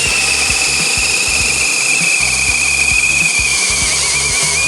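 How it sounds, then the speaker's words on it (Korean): HPT HD210N hammer drill boring into wood, a loud close whine held at a steady pitch over rapid rhythmic hammering pulses, running continuously without a voice. "다시 이어서 뚫어보겠습니다"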